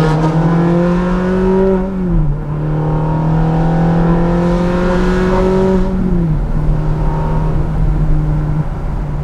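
A Ferrari 430 Spider V8 with flap exhaust revs hard and loud from inside the car, climbing steadily through a gear change with a brief dip before pulling again and settling into a steady drone.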